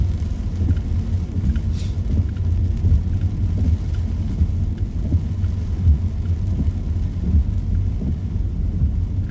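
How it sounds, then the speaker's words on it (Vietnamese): Motorbike engines rumble continuously close behind, a low steady roar mixed with rain and wind noise during a stormy ride. "Phía sau có mấy chiếc xe máy chạy phía sau."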